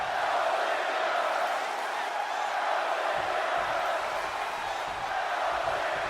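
Steady roar of a virtual arena crowd in the WWE 2K23 wrestling game, continuous and loud throughout with no distinct peaks, cheering for a wrestler mid-match.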